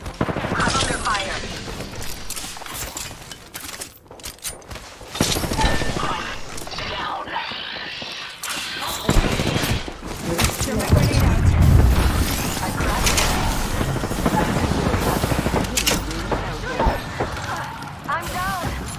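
Video game gunfire crackles in bursts and rapid volleys under near-constant talking from a player, with clanks and impacts mixed in throughout a busy, loud battle.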